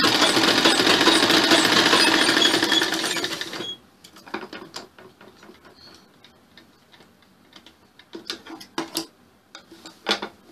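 A sewing machine stitches a blouse with a loud, dense mechanical whir for a few seconds, then stops, leaving scattered soft clicks and taps.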